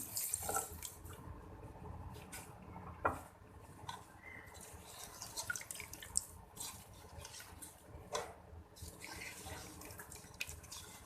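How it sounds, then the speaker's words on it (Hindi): Water poured from a tap into a cooking pot of browned chicken and turnips, a faint sink-like stream with soft splashes and drips in a quiet kitchen. "अब मैं इसमें पानी डाल देती हूँ, ये देख लें।"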